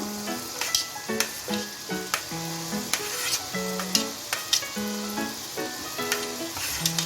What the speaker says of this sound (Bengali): এখন আমি কেটে রাখা গাজরটা দিয়ে দিচ্ছি।